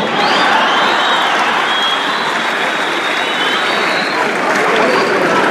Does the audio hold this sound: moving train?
no